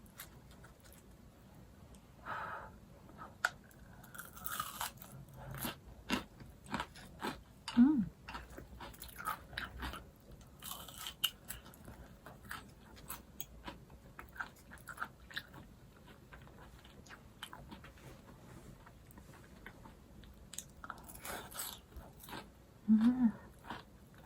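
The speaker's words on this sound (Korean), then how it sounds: "그냥 밀가루로만 반죽했는데도 엄청 바삭해요." Close, crisp crunching and chewing of a crispy vegan kimchi pancake, repeated bites scattered over a quiet background.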